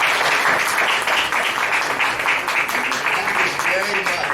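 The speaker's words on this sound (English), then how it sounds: "Give him a round of applause." Applause from an audience at a general meeting, a dense steady clatter of many hands clapping throughout, loud and continuous with a faint murmur of voices underneath.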